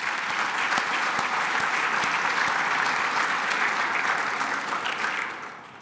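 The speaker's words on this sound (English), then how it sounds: "Let's give all of them a round of applause as well." A banquet crowd at Colorado State University's 2016 President's Gala applauds the people who prepared and served the meal, a dense, steady roar of clapping that holds evenly for about five seconds before tapering off at the end.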